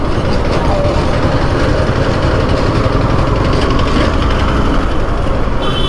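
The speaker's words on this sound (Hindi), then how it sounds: "देखिए कैसे आवाज़ करता है मेरा बाइक देखिए यही वाला आवाज़ आता है" A Yamaha R15 V4 motorcycle engine with an overheating problem runs continuously with a rough, rattling mechanical drone, loud and close, its uneven noise holding steady throughout.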